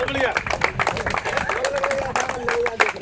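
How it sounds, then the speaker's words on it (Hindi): Clapping from a crowd at a tennis-ball cricket T20 championship presentation ceremony, steady and moderately loud while someone speaks over it through a public address system. "तालियां बजती रहनी चाहिए।"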